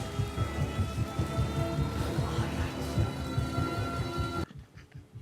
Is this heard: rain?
yes